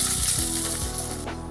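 Onion dropped into hot oil with whole spices such as cinnamon, giving a loud, bright burst of sizzling that fades slightly over a brief moment.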